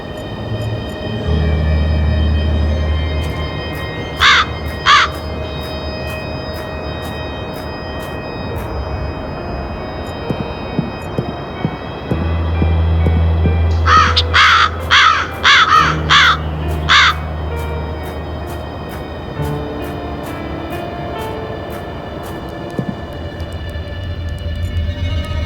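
Crows caw from a nest in the Black Mirror 2 game, in two bursts of repeated harsh calls: a short pair early, then a longer run of five or six caws, over a steady low ambient rumble.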